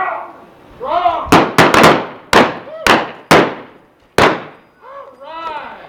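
Several sharp, loud gunshots ring out in a staged Old West gunfight in Oatman, a quick cluster of cracks followed by a few spaced shots, with voices talking before and after.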